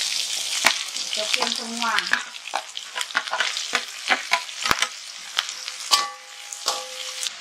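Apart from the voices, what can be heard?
stir-frying shallots, garlic and chili in a pan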